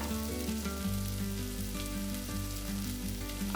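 Corn kernels, chopped carrot and capsicum frying in a pan, a continuous close sizzle and hiss with faint stirring touches, steady in level and free of speech.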